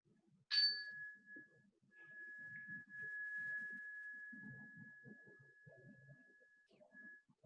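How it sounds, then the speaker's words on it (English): A single bright chime strikes once, clear and ringing, then sustains as a long steady tone that fades slowly over several seconds, with a soft repeat near the end, over faint murmuring voices in the background. "And once again, the chime."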